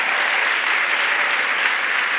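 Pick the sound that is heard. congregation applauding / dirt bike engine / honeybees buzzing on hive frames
congregation applauding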